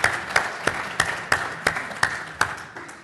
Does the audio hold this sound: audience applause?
yes